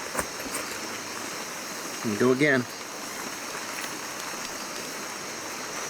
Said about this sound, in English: I can feel the rain on my back.